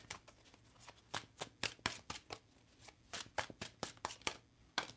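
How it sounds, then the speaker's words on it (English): A deck of tarot cards is shuffled close up, giving a rapid series of sharp riffling slaps and flicks in an uneven rhythm, fairly quiet, with no speech. "I'm going to pull one card here."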